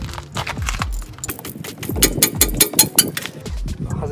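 A thread-locked bolt on a Mazda Demio's rear suspension is loosened with a ratchet, giving a run of close, rapid metallic clicks with a few effortful pauses and a speaking voice over parts of it.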